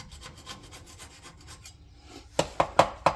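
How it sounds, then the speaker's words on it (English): Old gasket material is scraped off a truck differential cover, starting as soft steady rasping strokes and ending with several louder, sharper scraping strokes close by, with no talk. "hold it as flat as you can, and then just apply a little bit of pressure and scrape along the edge"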